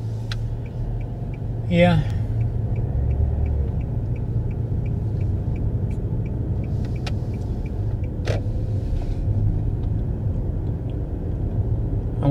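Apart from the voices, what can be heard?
car driving through town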